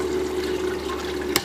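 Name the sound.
submerged water pump running, pumping water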